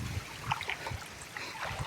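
Floodwater in a river trickles and gurgles softly, a faint, uneven babbling with small splashy bursts.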